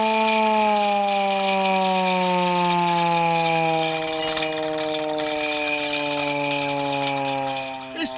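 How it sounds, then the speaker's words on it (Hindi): A hand-cranked civil defence air raid siren in Jodhpur sounds a long, steady wail whose pitch slowly falls as the crank winds down, with faint mechanical rattle beneath. "ये सायरन बजाकर जनता को कल अलर्ट किया जाएगा"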